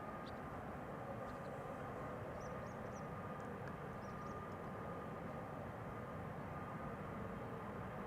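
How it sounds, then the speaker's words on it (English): An airplane at Amsterdam Schiphol Airport, a steady broad distant engine roar held evenly at low level the whole time, with a few faint high chirps above it. "We have more airplanes in the pipeline coming this way."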